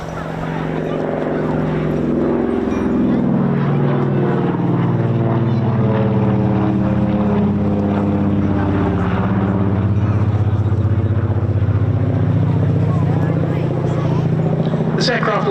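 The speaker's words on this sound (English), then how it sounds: "Running in straight in front of us, the Lockheed 12A Electra Junior." A Lockheed 12A Electra Junior taxiing at an airshow, its propeller engines a loud, steady, throbbing drone close by for the whole stretch, with a voice talking over it.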